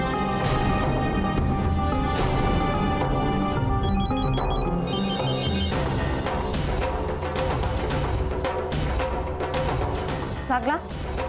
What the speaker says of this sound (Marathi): प्रीतीला फोन लावते.